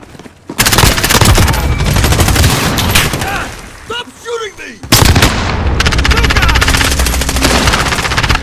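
Loud, sustained automatic gunfire in a modern combat video game, with rapid continuous bursts that break off briefly to leave a few softer sounds before the shooting resumes at full intensity; voices can be heard in the game.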